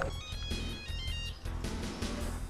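A telephone ringtone plays on steadily in an Indonesian-language comedy drama scene, a loud repeating electronic ring with a thick layer of music and room sound underneath it.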